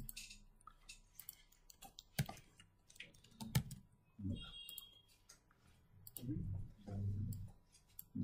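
Clicky keystrokes on a computer keyboard while a VNC password is entered, scattered irregular taps under intermittent talking.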